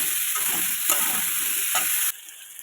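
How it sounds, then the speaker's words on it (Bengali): Capsicum frying in a pan gives a loud, steady sizzle with a few scraping stir strokes, then drops off sharply near the end to a quieter hiss. "আমি ক্যাপসিকামগুলো ভেজে নেবো"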